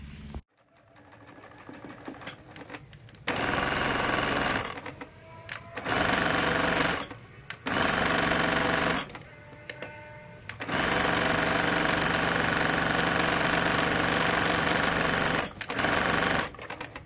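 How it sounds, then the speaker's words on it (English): Sewing machine basting a fabric ruffle strip, running in several bursts of steady rapid stitching separated by short pauses, close and clear. "I'm gonna baste it on my sewing machine so that I can gather the top here"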